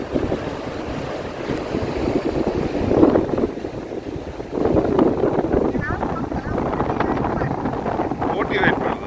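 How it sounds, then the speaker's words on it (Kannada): Boat out on open water heard over waves and heavy wind buffeting the microphone, a steady rumbling wash with people talking throughout. "ಬೋಟ್ ಅಲ್ಲಿ ಬರ್ತಾ ಉಂಟು ನೋಡು, ಅಲ್ಲಿ ಬರ್ತಾ ಉಂಟು."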